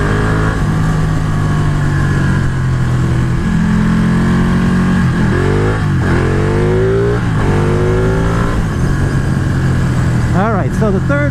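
BMW S1000RR sport motorcycle engine idling loud and close, then blipped through several quick revs that rise and fall, ending in a sharper burst of revving.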